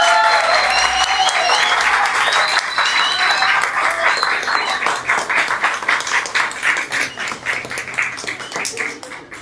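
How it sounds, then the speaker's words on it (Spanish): An audience at a talk on feminist approaches to judicial reform gives a sustained round of applause, dense clapping at first that thins into scattered claps toward the end. "Les pido un fuerte aplauso por ella."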